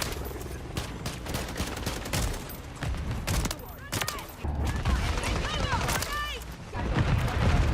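Killstreak bombardment in Call of Duty MW3 after a DNA bomb: dense, continuous rolling explosions and gunfire crackle at high volume, booming lows throughout, with a voice talking over the din.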